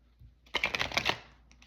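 Tarot cards shuffled by hand in a quiet room, a quick run of dense riffling flutters lasting under a second, close and crisp, then a couple of faint soft taps.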